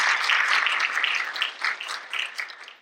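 Audience applause at a school district state of the district event, a burst of many hands clapping that swells, then gradually thins and fades, with no speech over it.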